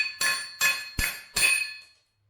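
Four ringing metal-on-metal hammer strikes, close and evenly spaced, knock wheel studs out of a 1972 Camaro C-clip axle braced on a wood block on the floor, then fade to silence.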